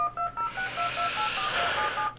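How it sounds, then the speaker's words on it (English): A run of telephone keypad dialing tones, short evenly spaced beeps in a steady rhythm, followed by a line tone, placed during a call to a radio show guest; close and clear with no talk. "we are going to call Donny Paycheck again and see if Donny will pick up the phone"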